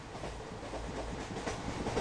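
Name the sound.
inside a moving railway compartment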